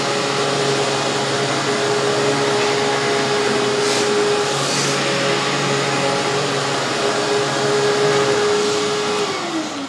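Royal PowerCast 9000 upright vacuum cleaner running continuously, a loud, steady motor whine and airflow roar with a constant tone that dips slightly near the end.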